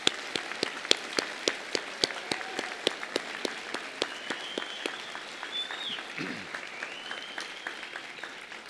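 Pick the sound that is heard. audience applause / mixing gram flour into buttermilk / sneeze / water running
audience applause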